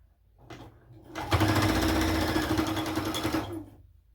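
A sewing machine stitches fabric in one steady motorized run of about two seconds. It spins up and winds down at each end and sounds fairly near and clear.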